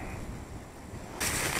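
Strong winter wind, over 10 m/s at 0°C, roars and buffets the microphone in a dense rushing noise that suddenly grows harsher and louder near the end.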